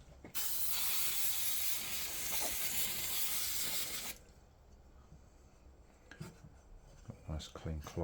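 Brake cleaner sprays in one long, loud, steady hiss from an aerosol can onto a Yamaha SRX600 motorcycle part, stopping abruptly after about four seconds, followed by light handling clatter and rubbing.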